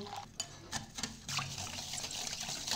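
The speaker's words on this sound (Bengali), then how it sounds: "অল্প একটু খেজুরের গুড়, অল্প গরম জল দিয়ে ভালো করে মিশিয়ে নেব" Sugar and date jaggery stirred into hot water in a bowl, a wet swishing and sloshing with a few sharper clinks early on, then a steadier liquid wash that stays fairly close.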